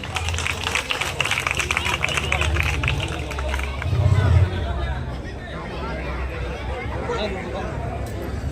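Applause and cheering from a village crowd in Gannaur, Haryana, welcoming the village sarpanch, Atar Singh; dense clapping stands out over the first few seconds, then fades into steady crowd chatter and murmur.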